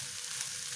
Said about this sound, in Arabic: هعمل فريك بالسمنه